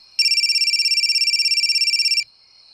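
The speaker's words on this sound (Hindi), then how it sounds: "तो हम अभी बीना को फोन लगाते हैं" A telephone rings out in a steady pulsing electronic trill for about two seconds as a call is placed, loud and close with no talk over it, then stops abruptly.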